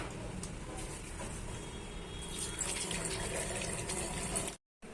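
A tap runs steadily while hands are washed before a clinical abdominal examination, a continuous even splashing hiss with some clatter, cutting out briefly near the end.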